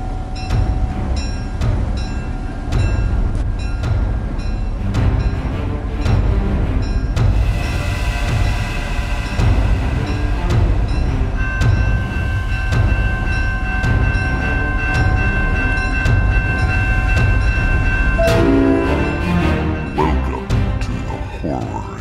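A train rumbles into a station with loud, continuous low-end rolling noise, metallic rattles and a sustained tonal squeal of brakes building toward the end, while voices talk underneath.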